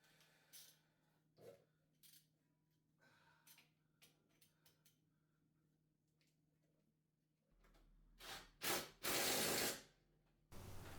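An electric ratchet tightens brake caliper bolts on a used daily-driver car, with short whirring bursts and clicks, and a louder, longer burst toward the end.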